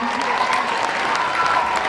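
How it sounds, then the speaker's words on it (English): A school audience claps for student speakers at a Blue Ribbon Award ceremony, a dense, fairly loud burst of group applause with some crowd murmur running through the brief stretch. "I do want to give a big round of applause for our student speakers today"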